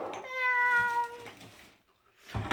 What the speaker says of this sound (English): he still comes in meowing like the starved animal